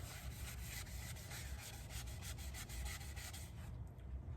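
Steady rhythmic rubbing of sanding sealer onto a spalted red alder salad bowl, a soft scratchy swishing repeated back and forth at close range, stopping briefly near the end.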